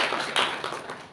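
An audience applauding, a short patter of many hands clapping at moderate volume, rising briefly and then thinning out.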